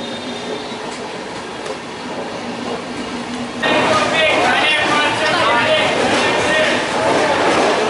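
The Brahmaputra Mail express train rolling along the rails, a steady loud rumble with rhythmic wheel clatter and a metallic squeal, growing louder and closer midway as it passes.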